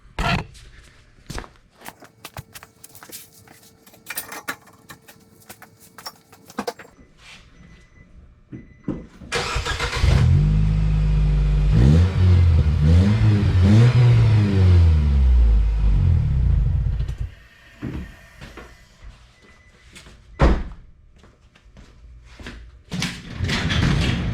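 A Nissan Sentra engine with a newly fitted muffler starts after some clunks and knocks, revs loudly several times through the exhaust for several seconds, then settles as handling noises resume.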